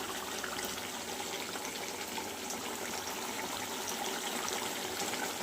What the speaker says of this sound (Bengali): ফুটছে, টকবক করে ফুটছে।